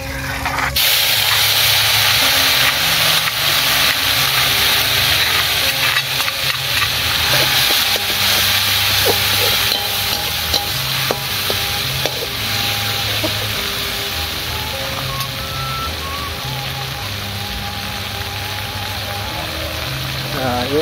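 Sambal balado chili paste sizzles and spatters while frying in a pan in a simple village kitchen, a continuous hissing crackle with occasional stirring clinks, speech faintly in the background.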